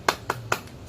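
A class of fifth-grade pupils claps in unison for a spirit chant, three sharp group claps in an even rhythm, close and moderately loud with no voices over them.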